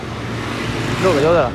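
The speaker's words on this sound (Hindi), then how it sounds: "ट्रैफिक बहुत ज़्यादा है" Evening rush-hour road traffic with a steady roar of passing cars and engines, heard continuously close by under a voice speaking briefly near the end.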